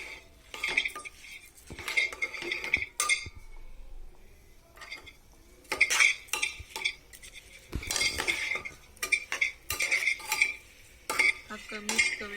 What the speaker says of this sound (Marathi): यात आता मी तांदूळ टाकत आहे. आणि आता हे 2 मिनिटं चांगलं परतून घ्यायचं आहे.